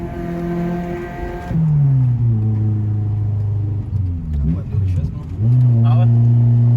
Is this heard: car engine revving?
yes